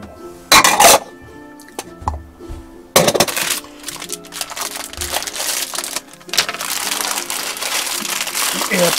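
Chopped root vegetables and onions tumble into a Dutch oven for pea soup cooked in a camper van, giving bursts of rattling, clinking and crinkling clatter up close, with quieter gaps between additions.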